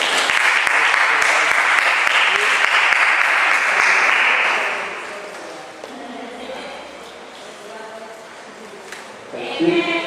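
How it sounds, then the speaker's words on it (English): A church congregation gives a round of applause for a gift recipient, loud sustained clapping for about five seconds that fades into murmuring voices and a few stray claps. "Give her a round of applause, please."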